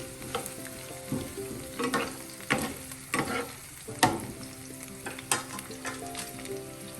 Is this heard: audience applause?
no